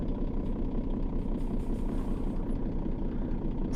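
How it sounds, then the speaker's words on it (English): In a trucking simulator game, a heavy truck engine idles with a constant low rumble and throb, sitting steady and close with no speech over it. "turn the engine off and the lights down."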